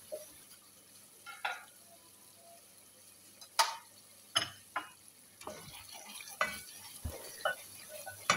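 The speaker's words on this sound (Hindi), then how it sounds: "अब इसको हम थोड़ा सा और मज़ीद फ्राई कर लेंगे।" Masala for dal tadka fries quietly in a pan, with scattered soft clinks and scraping stirs standing out over a faint sizzle, no voices.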